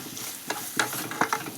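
A spoon stirring a thick Japanese curry in a pan, a few short scraping strokes and soft clinks over a low background sizzle.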